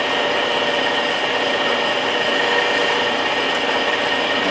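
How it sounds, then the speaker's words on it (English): A metal lathe turns a short section at about 200 RPM during a Dole power tilt and trim rebuild, giving a steady, loud, continuous mechanical whir and hiss without pauses. "We're running about 200 RPM, and we're just going to turn a little short section here."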